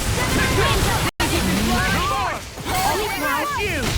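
Water attack named Waterfall in the Tales of Arise video game, heard as a loud rushing, splashing surge with game effects and shouted character voices layered over it, broken by a brief gap of silence.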